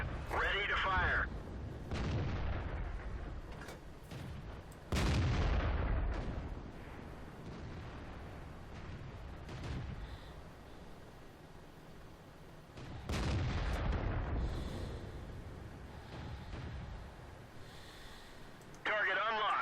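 Heavy tank destroyer cannon shots in World of Tanks, three or four loud booming blasts with long rumbling decays spread over the stretch, amid continuous battle noise and game voice callouts.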